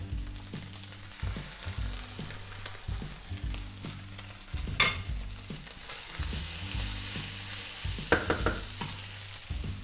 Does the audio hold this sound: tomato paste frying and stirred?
yes